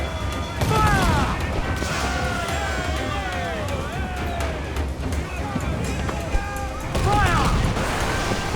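Pirate ship cannons booming in a broadside during a naval battle in Assassin's Creed IV: Black Flag, heavy blasts at the start and again near the end over constant sea-battle din, with shouted crew voices throughout.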